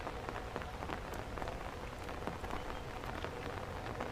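Steady rain falls during a morning hike over Hong Kong, a dense, even patter of drops on surfaces, constant and moderately close with no voices.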